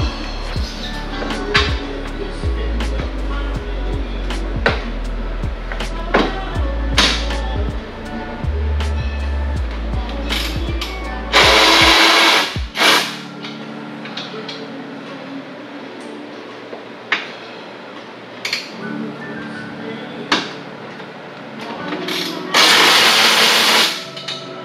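Screws come out of a Mercedes-Benz W221 S550 during a radiator coolant expansion tank replacement, with two loud whirring power-tool bursts separated by quieter clicks, taps and low rumbling background noise.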